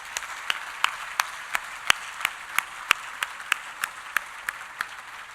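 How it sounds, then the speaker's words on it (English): At the Greenway breakfast, an audience applauds the Greenway staff, and sharp individual claps stand out in a steady, evenly spaced rhythm over a softer bed of clapping for several seconds. "could you just join me in a round of applause for all the Greenway staff, past and present?"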